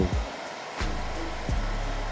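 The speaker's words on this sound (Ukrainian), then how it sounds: "Прогріваємо їх феном і видаляємо з корпусу." A hair dryer blows a steady, close-up whooshing roar as it heats old stickers on the plastic body of a remote-control toy car, with a few soft recurring sweeps in the airflow.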